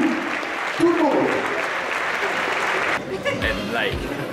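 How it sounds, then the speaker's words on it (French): Thunderous applause from an esports crowd at the grand final of an Ultra Street Fighter 4 team tournament, dense steady clapping that drops away near the end as a voice comes in. "un tonnerre d'applaudissements pour SRG"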